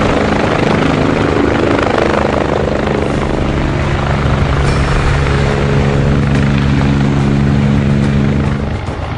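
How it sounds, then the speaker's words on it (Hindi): Helicopter flying over mountains in a disaster-hit glacier region, its rotor roar loud, close and continuous throughout with no voices. "पहाड़ों पर हेलीकॉप्टर की लगातार गर्जना एक उम्मीद है तबाही से जूझ रहे लोगों के लिए।"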